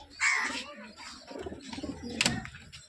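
A healthy pair of pigeons, male and female, just released by hand, give soft intermittent coos and short calls close by, with faint voices and handling noise around them.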